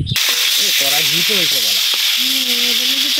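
Steady loud sizzling of pointed gourd fritters frying in hot oil, with a voice speaking over it and a faint hum under the hiss.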